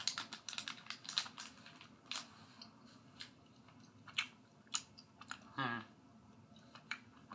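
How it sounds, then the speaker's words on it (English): Gushers fruit snacks being chewed up fast, heard close and quiet as irregular soft crunching and squishy clicks with short pauses between bites. "I'm just going to chew them up real fast"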